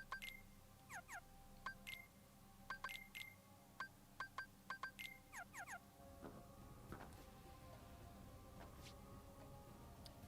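A phone gives off a run of short, sharp electronic beeps and chirps in quick irregular bursts, fairly close, over a low background hum that thickens toward the end.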